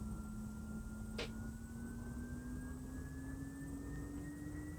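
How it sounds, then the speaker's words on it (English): Jet engine of a Mirage 2000D in Falcon BMS spooling up, a steady rising whine over a low rumble with a brief click near the start. "Alright, engine seems to be starting now."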